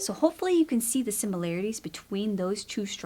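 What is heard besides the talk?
No everyday noises stand out.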